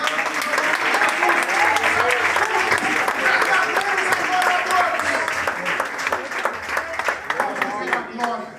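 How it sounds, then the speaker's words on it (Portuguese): A church congregation applauds with both hands during a worship service, loud and continuous for the whole stretch, with voices and singing running over the clapping. "Levante as duas mãos e aplaude."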